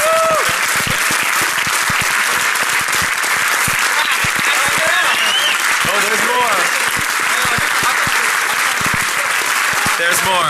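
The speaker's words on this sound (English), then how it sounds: "please give your strongest round of applause for Mudge" Audience at the DEF CON hacker conference giving Mudge a strong, sustained round of applause, dense clapping from a large crowd with scattered cheers, loud and continuous throughout.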